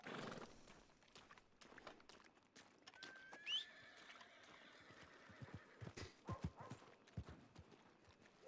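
Horse-drawn carriages clip-clop through a video game street, steady hoof beats with a whinny and a whistle-like tone rising over the scene, no talk.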